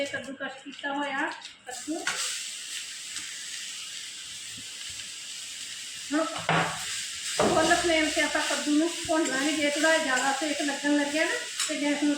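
Pumpkin roasting in hot oil with cumin seeds and dried fenugreek leaves, a steady sizzle and hiss broken by scraping stirs in the pan, with talk over it.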